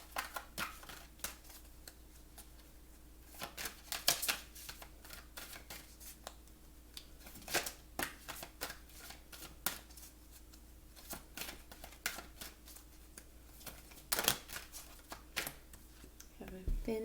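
Oracle cards are shuffled by hand in repeated quick riffling bursts, soft and close, spread across a steady low background hum.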